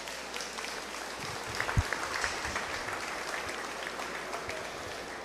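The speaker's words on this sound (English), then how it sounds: "Let's give all these exhibitors a round of applause." An audience at a 2021 beef cattle showmanship contest applauds the exhibitors, a steady wash of clapping heard at moderate distance, with a few louder nearby claps early on.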